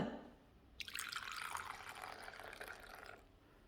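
Coffee pours into a cup as a steady liquid splash, starting after a brief quiet moment, holding fairly even for about two and a half seconds, then stopping, near and moderately loud with no talking.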